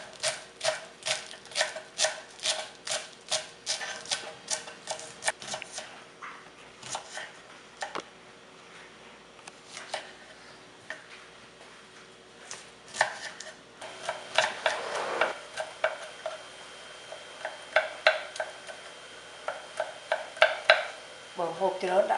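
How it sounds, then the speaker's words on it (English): A knife finely chops sawtooth herb on a cutting board for Cambodian pork laap, giving quick rhythmic runs of sharp taps with short pauses between bursts and a voice talking at times. "Here we're just finely chopping our sawtooth herb."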